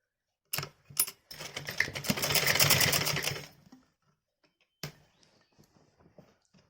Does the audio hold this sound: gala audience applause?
no